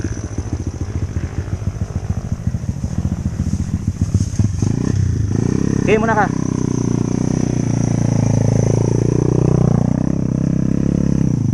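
An enduro dirt bike engine runs after starting on an endurocross track, beginning as a rapid loud putter and settling into a steady idle and rev. A person talks over it.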